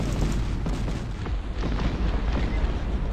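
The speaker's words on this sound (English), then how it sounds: "Let's continue the artillery barrage." Cannon artillery fire from Saxony and Swedish cannons in the strategy game Cossacks, a rumbling barrage of overlapping low booms and blasts that runs continuously at full loudness.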